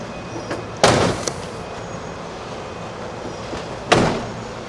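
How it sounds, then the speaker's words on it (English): Two solid emergency vehicle door slams about three seconds apart, loud and close over a low idling hum. "And then when we close the doors"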